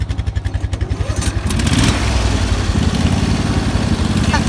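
A tractor engine that was just worked on, its carburetor running on vacuum, starts with a rapid pulsing chug and then settles into a loud, steady running drone that fills the whole clip, with no talking over it.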